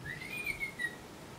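A pet bird gives a quiet, clear whistle that rises, then holds and wavers in one long sweeping note lasting about a second.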